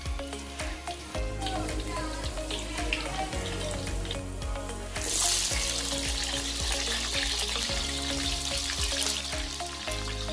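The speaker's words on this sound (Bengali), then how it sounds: "রসুনটা ভাজতে হবে ভালো করে" Garlic frying in hot oil for a Chittagong-style beef kebab, a steady close sizzle with faint stirring and a brighter hiss building about halfway through, no talk heard.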